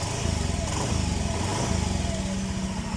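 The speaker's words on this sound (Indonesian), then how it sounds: "Ini aja ada bunyi sedikit dari ngung-ngung. Ini adalah suaranya dari bearing asbrek ataupun klaker stang," A Honda Beat scooter runs close by with a steady engine drone and a faint whirring hum from a worn starter bearing underneath it.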